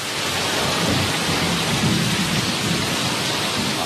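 Heavy storm rain pours steadily with rumbling thunder underneath, a dense, loud, continuous wash of noise with no voices.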